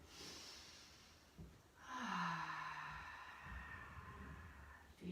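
One slow, full breath taken during a beginner yoga flow, a soft sighing inhale and exhale over a faint steady hiss, quiet and close.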